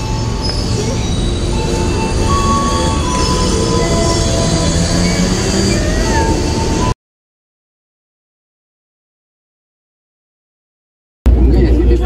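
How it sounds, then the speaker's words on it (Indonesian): A commuter train arrives and runs past close by, with loud continuous rumble and high wheel squeal for several seconds. It then drops to silence, and the rumble returns abruptly at the very end. "Oke, kita naik. Naik kereta dulu ya."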